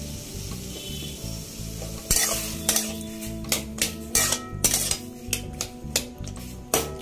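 A spatula stirring tomato chutney in a pan, a soft simmering hiss followed by a run of sharp, repeated scraping and clinking strokes against the metal, close and fairly loud.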